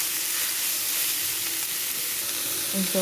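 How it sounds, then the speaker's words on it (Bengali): Radish greens sizzle in hot oil in a pan, a dense, steady hiss close up with faint scrapes as they are stirred, no speech. "অল্প একটু ভেজে নিলাম কয়েকটা নাড়াচাড়া"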